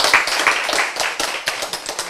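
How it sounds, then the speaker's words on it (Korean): A short burst of applause from a group, brisk overlapping claps that fade slightly toward the end. "박수."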